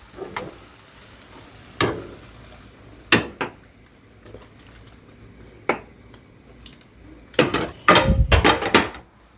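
Spoon scraping and clanking against a pan of asparagus risotto as vegetable stock goes in, with sharp metallic knocks spaced a few seconds apart over a low simmer, then a quick flurry of stirring near the end.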